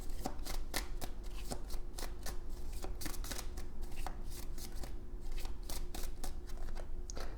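Tarot cards shuffled and drawn, giving a steady run of rapid papery riffles and flicks with sharp card snaps throughout, close and fairly loud, with no talking.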